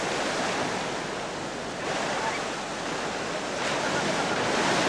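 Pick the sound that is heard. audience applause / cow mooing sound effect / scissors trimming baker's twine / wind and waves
wind and waves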